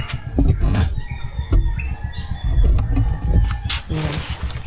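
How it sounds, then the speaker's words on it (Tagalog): A chicken to be slaughtered for cooking clucks and crows up close beside a wood-fired stove, with scattered squawks and a brief flutter of wings. "Yan yung manok na kakatayin namin, pang tinola."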